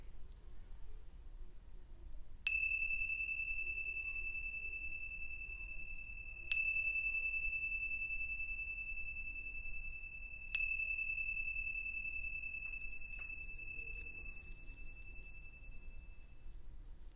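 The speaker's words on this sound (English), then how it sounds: "opening to receive the sounds of the bells." Meditation bells ring out clearly three times at even intervals during a seated mindfulness meditation, each strike leaving a long, pure sustained tone over a quiet background.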